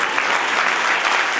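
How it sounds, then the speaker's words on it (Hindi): An audience at a national Arya youth council foundation day event breaks into loud, dense applause, a continuous burst of clapping from a crowd heard up close. "तो ताली बजनी चाहिए थी ना"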